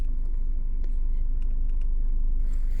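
A Renault Clio with a hard cold-start and injection fault drives along a street at night, its steady low engine and road rumble continuous and close throughout.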